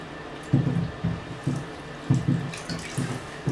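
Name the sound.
water running while rinsing developed film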